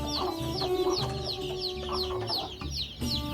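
Desi hens and small chicks on a village farm cluck and peep in a steady, close chorus, with repeated soft clucks and higher cheeping throughout.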